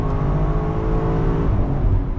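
A BMW X5M running a stage 2 tune pulls hard with a loud, steady engine roar from inside the cabin, its pitch stepping through quick automatic gear shifts with no talking.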